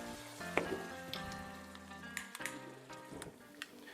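High-proof alcohol flaming in a pan with a steady soft sizzle and occasional crackling pops, quiet and close, with a tonal hum running underneath.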